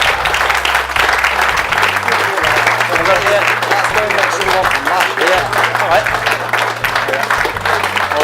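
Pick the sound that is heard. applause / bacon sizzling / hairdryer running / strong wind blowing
applause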